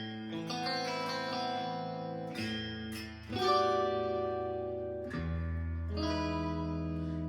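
Squier Stratocaster electric guitar with fresh strings played on an out-of-phase pickup setting, a few ringing chords and notes strummed one after another, clear and alone.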